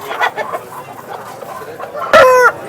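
A healthy, strong rooster at a Vijayawada rooster market gives soft low clucks, then a loud close crow near the end over faint background murmur.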